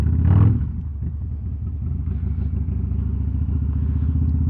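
A Harley-Davidson Road Glide ST fitted with a Sawicki Speed exhaust pulling away, a loud thump at the start settling into a deep, steady, rumbling engine note that stays close.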